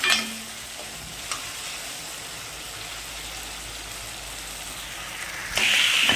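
Dried red chillies crackle in hot oil for a dal tadka, a steady close sizzle with a light stir clink early on, rising to a brighter hiss near the end.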